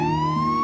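A police car siren sounds as a short, loud, close wail that rises steadily in pitch and holds a clean electronic tone throughout, with no talk over it.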